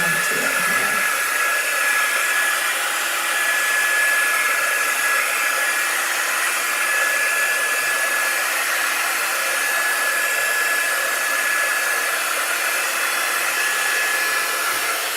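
Hair dryer blowing on chalk art, a continuous close hiss of rushing air with a faint steady whine, unbroken and loud for the whole stretch.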